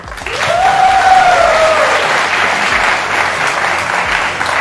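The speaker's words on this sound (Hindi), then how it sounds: "तालियां!" Loud audience applause erupts at a large event and holds strong, a thick steady roar of clapping with a rising cheer or whistle near the start before settling into even clapping.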